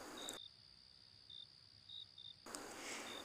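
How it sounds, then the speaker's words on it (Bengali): Crickets chirping beside a marsh and bushes at a silent cremation ground at night in a Bengali horror cartoon, faint high-pitched chirps scattered through a soft ambient hiss. "ঝিঝি ডাকছে, কাছাকাছি বোধহয় কোথাও।"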